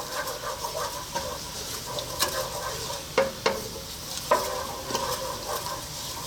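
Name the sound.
whole spices sizzling in hot oil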